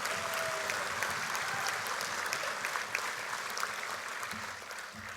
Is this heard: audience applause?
yes